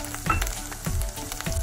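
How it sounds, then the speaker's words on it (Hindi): Onions and garlic frying in a pan for halwa puri, a steady close sizzle with a few soft bursts of stirring at regular intervals. "अब हम इसमें लहसुन ऐड करेंगे ताकि ये भी साथ फ्राई हो जाए।"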